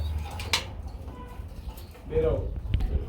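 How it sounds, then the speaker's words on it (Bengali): Danish pigeons kept in pairs, giving a soft, brief coo near the end over a low background rumble, with a few faint knocks. "আমরা আরেক জোড়া ড্যানিশ কবুতর দেখতে পাচ্ছি"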